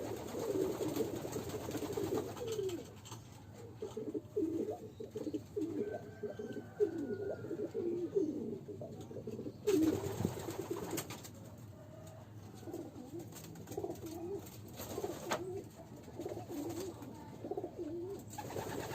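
Butterfly pigeons coo in low, throaty repeated calls, several birds close by with overlapping rolling coos and occasional wing or cage rustles throughout.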